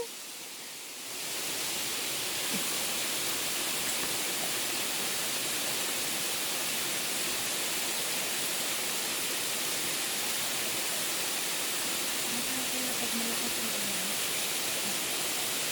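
Ng Tung Chai waterfall in Hong Kong, the territory's highest, roars as a steady, dense wash of falling water on a wet trail after rain, continuous and fairly loud throughout with no talk.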